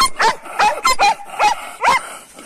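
A female dog close by gives a series of short, sharp yips and whimpering barks, five or six evenly spaced bursts, while being held outdoors during an armadillo release.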